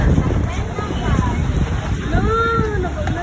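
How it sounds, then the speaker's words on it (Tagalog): Strong wind buffets the microphone with a steady, loud roar throughout, while people talk over it. "Ang lakas ng hangin."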